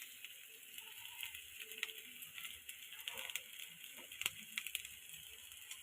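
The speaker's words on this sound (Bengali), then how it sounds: "কুচি করা আদা আর কাঁচা লঙ্কাটা দিয়ে দেবো। এবার আমি কিছুক্ষণের জন্য ভেজে নেব।" Chopped ginger and green chili frying in a pan give a steady soft sizzle with scattered pops and a few stirring scrapes, close and quiet, with no talking.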